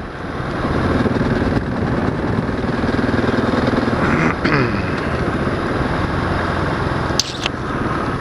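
A 2018 Husqvarna 701 SM supermoto motorcycle engine with the exhaust baffle fitted, running steadily and fairly loud throughout, with a brief rev change midway and a short knock near the end.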